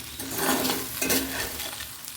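Okra stir-fry being stirred in a pan, a short burst of scraping and sizzling that swells and fades over about two seconds, close and fairly loud with no voices.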